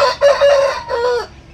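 A black Aseel (Madipura) rooster crows once, loud and close, a strained two-part call lasting just over a second before it cuts off.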